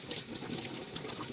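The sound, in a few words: water running from a tap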